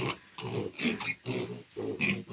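Young piglets grunt repeatedly in a series of short, close, moderately loud bursts with brief pauses between them, recorded at a farm just after weaning, with no talking over them.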